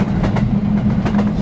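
A train runs on rails with a loud, steady low rumble and rhythmic clickety-clack beats of wheels over track joints, heard close and continuous with no voices.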